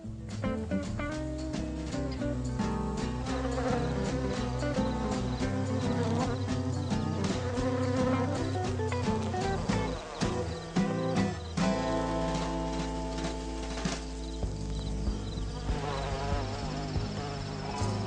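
Continuous buzzing of solitary bees, a dense droning hum with shifting pitch as insects move near and away, steady throughout without pause.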